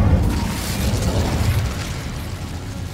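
An Incendio fire spell in Hogwarts Legacy bursts with a loud, sustained roaring blast, a dense rush of flame and crackle that fades only slightly over three seconds.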